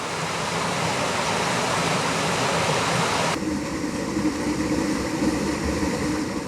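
Meltwater from a spring thaw rushes steadily down a mountain stream on Bukhansan, a dense, continuous roar that shifts abruptly to a slightly different wash partway through and never pauses.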